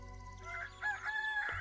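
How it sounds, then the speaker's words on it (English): A rooster crows in a tavern video game, a drawn-out cock-a-doodle-doo played once as a clear, fairly close sound effect with no talk over it. "I love the rooster."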